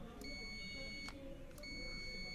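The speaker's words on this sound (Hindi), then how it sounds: "बजर साउंड भी आ रही है" A multimeter's continuity buzzer beeps while testing the switch of an automatic flour mill, giving two sustained, high electronic tones over a low background hum.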